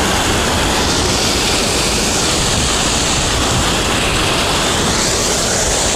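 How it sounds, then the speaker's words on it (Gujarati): A waterfall swollen by heavy rain roars as a loud, unbroken wash of rushing water that fills all six seconds, with some wind buffeting and no voices. "અને આને કહેવાય વોટરફોલ. જોઈ લો અવાજ કેટલો અને આ પાણી કેટલું."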